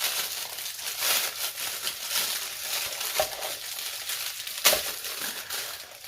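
Thin plastic packaging crinkles and crackles while an AliExpress parcel is unpacked, a steady rustle throughout with a couple of sharper crunches near the middle and end.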